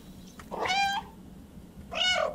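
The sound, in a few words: cat meowing in the video game Stray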